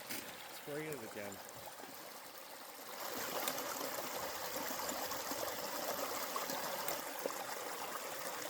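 A brief voice, then water starts gushing steadily from a hose, a continuous rushing hiss that stays loud and even, outdoors in eastern Canada.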